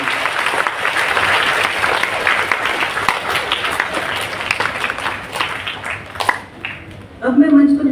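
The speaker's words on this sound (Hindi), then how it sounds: "एक बार जोरदार तालियां जसविंदर कौर।" A hall audience at a ceremony honouring mothers gives a loud, sustained round of applause for an honoree, clapping for several seconds before it fades and a voice begins speaking over a microphone.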